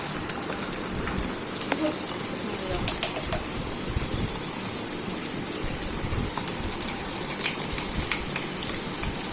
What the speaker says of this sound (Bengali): আদা বাটা দিয়ে ভালো করে নেড়েচেড়ে আদাটাও ভালো করে ভেজে নিলাম চিকেনের সাথেই